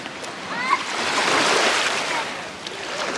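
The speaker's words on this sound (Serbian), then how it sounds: "Ulazak u vodu." A person wading into calm sea water at a sandy beach, close swishing and splashing that swells and fades, with waves lapping in the background.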